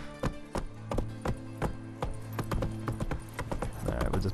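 Horse hooves clip-clop in a steady trotting rhythm through the Witcher 3 video game, close and fairly loud, with a faint whinny near the end and no talking.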